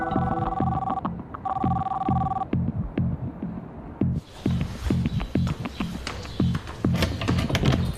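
A telephone rings twice with steady electronic trilling bursts and is left unanswered. A deep, rhythmic throbbing pulse continues beneath and after the rings, growing denser toward the end.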